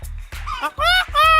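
A person's voice mimics a rooster crow in a few rising, strained bursts, loud and close, with a low hum running underneath.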